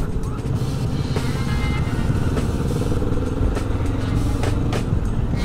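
A Kawasaki Vulcan S motorcycle engine runs steadily during break-in riding, a continuous close rumble with wind and road noise, no voices heard over it.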